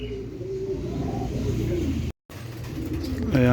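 Pigeons cooing during a pigeon racing training session as birds arrive back at intervals, soft low repeated coos against steady outdoor background noise, with a brief dropout and a sharper call at the end.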